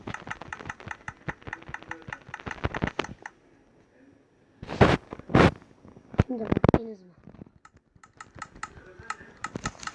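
Computer keyboard keys tapped in rapid bursts, a dense run of clicks, a pause with a few louder knocks and scuffs, then fast typing resumes, close and crisp.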